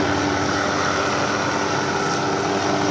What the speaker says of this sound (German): Aber warten, bis der Hubschrauber weg ist.